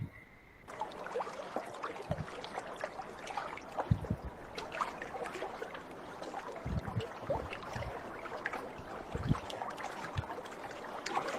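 Calm, steady water flows and trickles throughout, with small splashes and gentle lapping sounds. The sound stays soft and continuous, with no one speaking.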